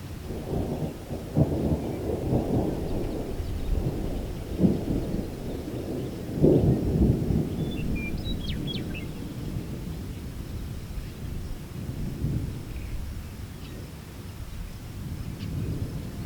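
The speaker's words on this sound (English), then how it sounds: "this small thunderstorm blew through" Thunder from a small thunderstorm on Colorado's eastern plains rolls in long, low rumbles with a few sharper cracks, over a steady wash of rain and wind.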